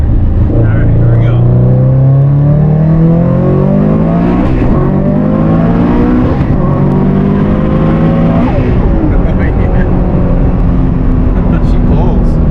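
A car running stock connecting rods accelerates hard through second, third and fourth gears, its engine note rising loudly in pitch, dropping at each shift, then climbing again, heard from inside the car.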